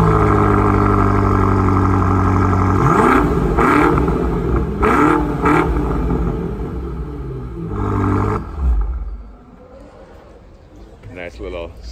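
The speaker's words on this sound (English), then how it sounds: "let's see what this thing sounds like with the custom exhaust" A BMW M5 engine with a custom exhaust rumbles loudly at a car meet, revving a few times with a deep throaty exhaust before settling, then fading as a voice comes in near the end.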